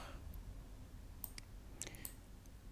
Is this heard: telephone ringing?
no